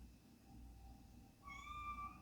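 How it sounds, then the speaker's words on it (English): A house cat gives a single short meow near the end, quiet and somewhat distant over a low background hum. "Is my cat meowing?"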